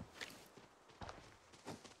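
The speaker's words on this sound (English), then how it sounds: "I hear footsteps behind us." Footsteps in the shooter game Arena Breakout: three soft, muffled steps roughly half a second apart, faint and somewhat distant, with no talk.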